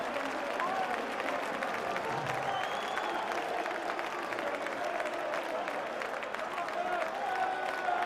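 A stadium crowd at a Carling Cup first-round match between Chester City and Leeds United applauds and murmurs after a hat-trick goal, a continuous, somewhat distant wash of clapping and crowd noise.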